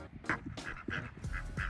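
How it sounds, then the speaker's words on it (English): Ducks of a duck family at an outdoor pond in Providence Village quack in a run of short, nasal calls, fairly close and clear against light outdoor background, with no talk. "Here's some of the ducks."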